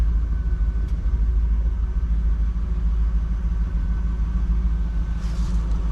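A 2002 Chevrolet Camaro SS 35th Anniversary idles with a steady, deep, low rumble, close by and unchanging throughout.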